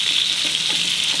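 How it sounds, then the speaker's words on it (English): Loud, steady sizzling of mackerel frying in hot oil, a dense crackling hiss close by with no voices. "Careful, okay, while frying, because the fat content in that mackerel will spurt out."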